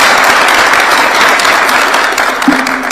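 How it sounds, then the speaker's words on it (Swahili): A State House gathering applauds the Nairobi United FC football team with loud, continuous clapping that fills the room. A brief tonal hum enters near the end. "Tumpigeni makofi"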